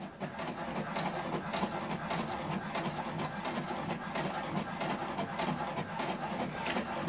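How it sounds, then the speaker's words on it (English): An HP DeskJet 2810e inkjet printer runs a print job, giving a steady mechanical whirring and clattering with rhythmic carriage passes, close and continuous with no talk. "Now it's printing the document."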